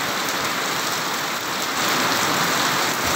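Heavy rain pours down steadily in a windy storm, a dense, loud, unbroken hiss with no voices over it.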